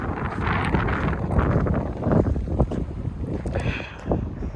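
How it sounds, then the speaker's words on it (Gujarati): Strong wind buffets the microphone while riding a tractor across a farm, a heavy rumbling gusty roar with fluctuating bursts and no clear talk. "મસ્ત પવન આવે છે ને હાલવાની મજા આવે."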